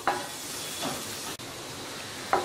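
Cabbage sautés in a pan for paneer fried rice, a steady soft sizzle broken by a few stirring scrapes, close and moderately quiet with no talking.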